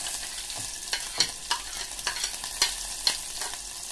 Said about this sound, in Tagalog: Sa isang mainit na kaldero na may mantika,